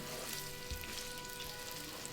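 Mushrooms sizzle steadily in a hot pan as they are stirred, a dense continuous frying hiss with a few soft scraping bumps, fairly quiet and close, no voices.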